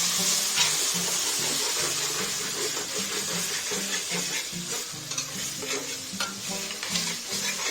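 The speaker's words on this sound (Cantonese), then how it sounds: "最後落紅酒。" Red wine hits a hot pan of frying tomatoes and tomato paste for homemade lamb stock, giving a loud, continuous sizzle with the rhythmic scrape of stirring, close by and without talk.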